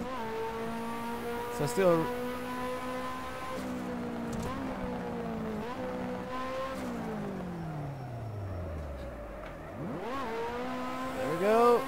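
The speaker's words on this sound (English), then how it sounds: "Just full throttling it." A race car engine in the rFactor racing game revs hard at full throttle through gear changes, climbing and dropping in pitch, with tire squeal at a drift event at Zolder and a voice speaking briefly over it.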